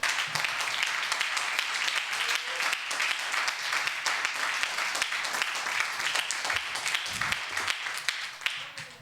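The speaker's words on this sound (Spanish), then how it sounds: "¿Cuántos dan un aplauso al Señor?" A church congregation breaks into loud, sustained applause, many hands clapping densely and evenly for several seconds with a brief low murmur beneath.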